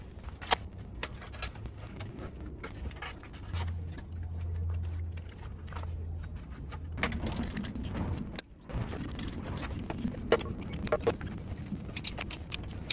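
Drive belt pulley spinning after being reassembled, giving a steady low mechanical whir with scattered light clicks and ticks, continuous and fairly close, with a brief dip partway through.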